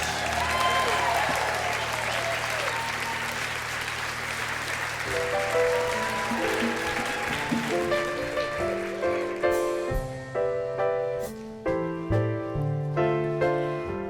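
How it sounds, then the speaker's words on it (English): Live theater audience applause for the actors, a dense wash of clapping that fades as a band starts playing a Christmas song. "Big round of applause for our actors."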